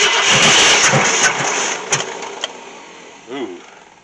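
A 1966 Ford Thunderbird with a Ford FE 390 V8, not started in 13 years, cranks and catches roughly, sputtering with sharp pops and backfires through the carburetor, then fades near the end, with a voice speaking over it.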